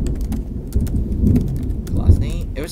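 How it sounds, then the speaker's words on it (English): Rain falls outside with a low, rolling thunder rumble, steady throughout and heard from indoors, with scattered light tapping on top. "It was raining here right now."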